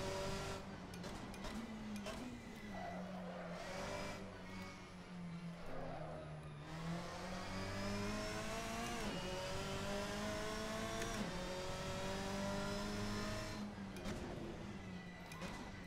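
A Seat Leon Euro Cup race car engine in Assetto Corsa, revving hard and climbing through gears with sharp upshifts, a continuous close, loud drone with pitch sweeps and brief dips under braking.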